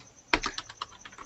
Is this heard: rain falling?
no